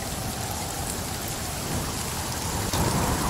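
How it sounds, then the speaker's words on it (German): Heavy rain in the survival game The Forest pours down loudly and continuously, a dense hiss of drops with a faint low rumble beneath and no talking. "ist der Regen laut"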